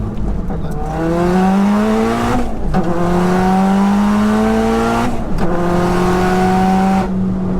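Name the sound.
601bhp 4WD converted Cupra R car driving hard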